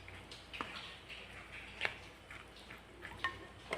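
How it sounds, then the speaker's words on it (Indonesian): A spoon stirs nasi uduk ingredients together in a pot, giving faint intermittent scrapes and light metallic clinks at a quiet, unhurried pace. "Kemudian ini kita aduk ya teman-teman. Kita aduk sampai tercampur merata ya."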